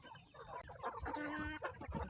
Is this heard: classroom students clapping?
no